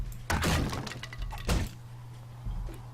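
A held tool breaks in the survival video game 7 Days to Die, a loud crunching crack followed by thuds and a second impact, close and busy over a steady low hum.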